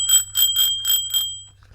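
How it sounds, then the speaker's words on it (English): A small hand bell rings out in celebration: five quick, bright, clear dings in a row, close and loud, then fading to near silence. "When I have a small victory, I ring this bell."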